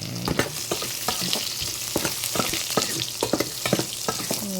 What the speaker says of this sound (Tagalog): Tapos, lagyan na natin tong bawang. Ayan. Sabay mo na rin ang sibuyas.